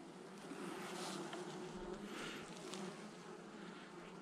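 Honey bees swarm and drone around an opened beehive, a steady dense buzz filling the whole stretch with small swells as individual bees pass close.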